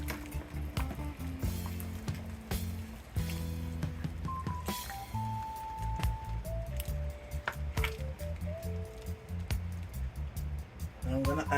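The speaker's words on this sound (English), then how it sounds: "Add the pumpkin one and I'm gonna stir it up." Pumpkin soup mix stirred into a pot of Jamaican pumpkin soup with noodles, continuous wet squishing and scraping close up, while a voice speaks at moments over it.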